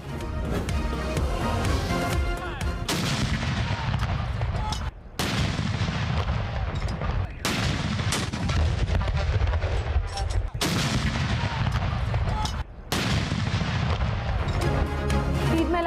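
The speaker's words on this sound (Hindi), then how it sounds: "इस्लामाबाद, लाहौर, क्वेटा और पेशावर में 21-21 तोपों की सलामी पेश की गई।" 21-gun cannon salute: several heavy booms in sequence, each followed by a long rumbling decay, loud and evenly spaced a couple of seconds apart.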